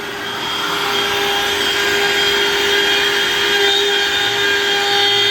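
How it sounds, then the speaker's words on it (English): A router runs steadily while cutting out wood, giving a loud continuous whine with a fixed high tone and a dense rushing noise that holds for several seconds with no pauses. "Let's turn our router on. We're up and run, and let's do the cutout."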